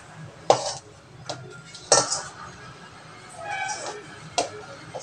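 Coconut ladoo mixture scraped out of a kadhai onto a plate, several sharp metallic scrapes and clinks of a spoon against metal, close and intermittent over a low background hum.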